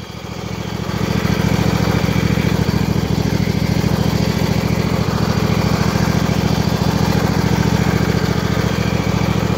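A 2007 Husqvarna YTH2454 riding lawn mower engine runs at a steady, loud drone that builds slightly at the start and holds even and close for nearly ten seconds, with no voices.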